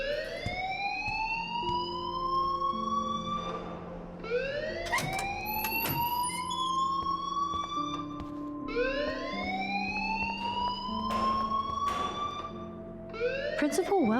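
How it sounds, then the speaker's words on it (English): In the Life is Strange video game, a wailing school alarm siren sweeps up and down in repeated loud rising cycles, ringing continuously under a low background hum. "please turn off that alarm since that's your job"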